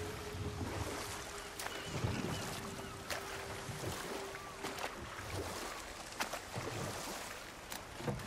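A boat glides across water in God of War Ragnarok, a soft continuous wash and lapping with faint wind, quiet and steady with occasional light knocks.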